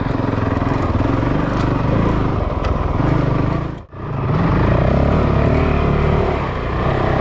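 A Yamaha WR450 and a Honda CRF450L ride off-road, their engines droning loud and close, with one brief dip in sound midway before the roar returns.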